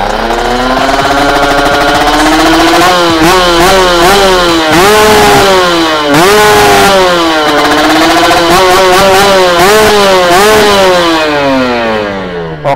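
A standard Kawasaki Ninja RR motorcycle with a TM 32 carburetor and Airman exhaust revs hard and close up, its loud two-stroke engine note climbing and dropping in repeated blips.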